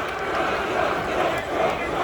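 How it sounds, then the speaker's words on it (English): Protest crowd at a Penn State campus event chanting in unison, a dense rhythmic roar of many voices with repeated swells, loud and continuous. "They're chanting Trump, I think?"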